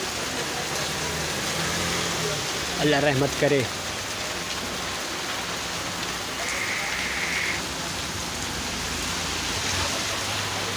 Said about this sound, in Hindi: बारिश फुल आ चुकी है